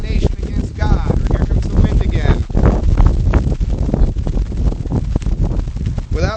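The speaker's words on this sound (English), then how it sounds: "here comes the wind again" Gusty outdoor wind buffets the microphone in loud, rough low-end rumbles and crackling bursts throughout, with a voice speaking faintly beneath the blustering noise.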